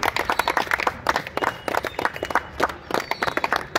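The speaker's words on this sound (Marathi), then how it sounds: "हा जोरदार टाळ्या होऊ द्या" Loud, dense applause from an audience at a retirement felicitation ceremony for a junior engineer, with many hands clapping continuously and close by.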